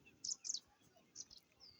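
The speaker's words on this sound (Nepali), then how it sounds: "हाम्रो गाउँको शान्त वातावरणमा चराचुरुङ्गीहरूको आवाज" Small birds chirp in a quiet village in Kalikot, Nepal, with a few short, high tweets in two brief pairs, faint and distant over soft background hush.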